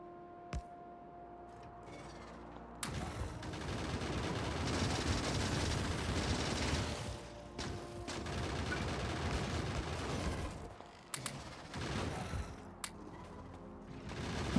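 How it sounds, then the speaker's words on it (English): Turrets in the game Factorio fire on biters in sustained rattling bursts that start after a brief opening sound and stop and start several times, with sharp single cracks near the end. "let the turrets take care of the loose biters there"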